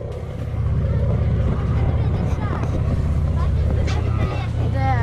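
Engine of a whale-watching boat at Depoe Bay runs as a steady, loud low drone with a constant hum throughout, heard alone without talk.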